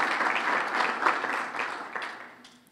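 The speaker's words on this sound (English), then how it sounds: "you all deserve a round of applause for that" Warm applause fills the room at a chamber of commerce awards gala, loud and dense at first, then thinning out and fading toward the end as the clapping dies down.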